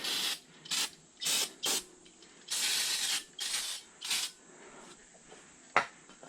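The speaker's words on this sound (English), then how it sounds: "I'm going to spray these off with a little bit of brake cleaner." Several short hissing bursts of aerosol brake cleaner sprayed onto a Honda CR-V's front brakes, close and loud, separated by brief pauses, followed by a single sharp click.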